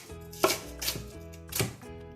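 A knife chopping an onion into thin slices on a board, three or four crisp, close cuts in uneven rhythm, with no talking.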